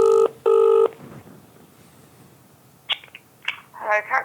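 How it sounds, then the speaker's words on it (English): A phone being dialed to call a taxi, with two loud keypad tones at the start, followed by quiet background noise and a few short faint beeps and clicks toward the end. "I will now phone for a taxi."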